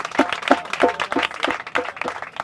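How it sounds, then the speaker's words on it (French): Audience applause at an evening show, a steady burst of clapping from a crowd filling the whole stretch at moderate loudness, with rhythmic clusters of claps and no talk over it. "on applaudit très fort"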